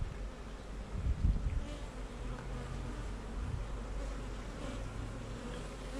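Worker honey bees bringing in nectar buzz in a soft, continuous hum, with a few louder passes close by against a low background rumble.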